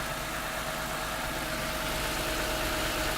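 A car engine idles steadily after a jump start, a constant low rumbling hum with no talk over it.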